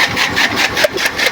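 A tractor-powered forage chopper runs steadily as it cuts fodder, a continuous engine drone with a rapid, pulsing whir from the cutting mechanism, loud and close, with no talk.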